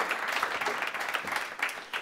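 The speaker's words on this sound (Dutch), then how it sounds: "Geef ze haar een hartelijk applaus." An audience claps in warm applause at a Dutch literary talk event, a brief, fairly quiet patter of many hands with no speech.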